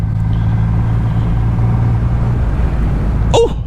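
A Triumph Rocket 3R motorcycle engine roars under hard acceleration on the road, a loud, steady low drone with wind rush and a brief high chirp near the end.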